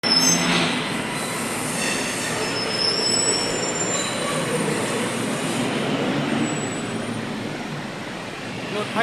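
An electric sky train rumbles past in Thailand with steady broadband roar and high metallic wheel squeal, loud and continuous throughout, with faint voices in the background.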